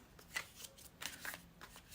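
A tarot card deck is shuffled in a few quick, soft riffling bursts, close and quiet, with a sharper snap at the end.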